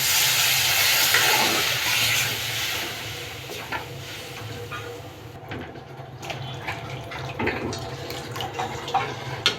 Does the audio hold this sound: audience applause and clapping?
no